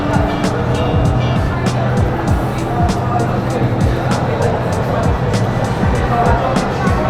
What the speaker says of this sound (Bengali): এখানে জায়ান্ট স্ক্রিনে অ্যাকচুয়াল ফেরারি রেসের ফুটেজ চলছে